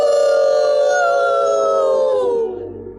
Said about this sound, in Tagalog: Sa malalim na bahagi ng kagubatan, maririnig ang malakas na ungol ng mga asong gubat.